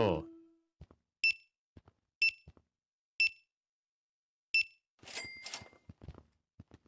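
A service bell rings at the counter in Internet Cafe & Supermarket Simulator. Four crisp, evenly spaced dings follow a brief opening noise, then a louder jangle and a few soft clicks.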